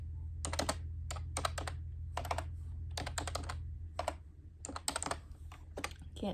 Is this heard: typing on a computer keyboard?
yes